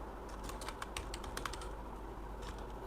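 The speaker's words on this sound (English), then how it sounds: "I'll type computer science." Keys tapped on a computer keyboard while entering a Python dictionary entry, a quick irregular run of soft close clicks followed by a brief pause and a few more taps.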